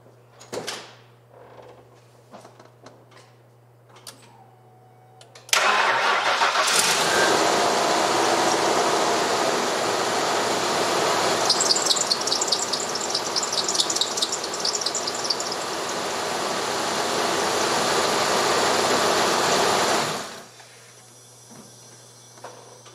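An OBS Ford F250 4x4 truck engine cranks and catches after a quiet start, then idles loudly and steadily for about fifteen seconds with a hissy roar before shutting off abruptly.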